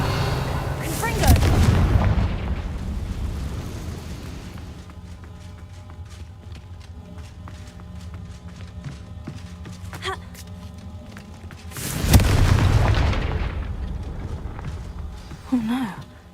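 Two big booming Confringo spell explosions from Hogwarts Legacy, each a loud roaring burst that decays into a rumbling tail, separated by a quieter stretch of ambient game sound.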